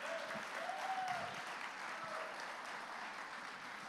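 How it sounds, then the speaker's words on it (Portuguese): A church congregation claps together in sustained applause, a soft, even patter that carries on at steady volume, with faint voices murmuring underneath. "Pode aplaudir o Senhor, porque Ele é digno."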